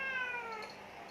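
A cat gives one drawn-out meow that slides downward, fairly faint and alone against quiet background.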